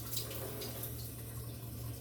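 Room-temperature water pours steadily into a bowl for bread yeast, a faint continuous trickle under a constant low hum.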